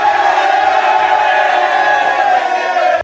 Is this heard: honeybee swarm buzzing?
no